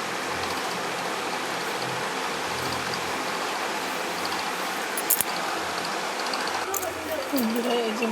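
Running water pours steadily while a fish is rinsed under it in a bathroom, a close, continuous rushing hiss with a few light knocks and splashes near the end.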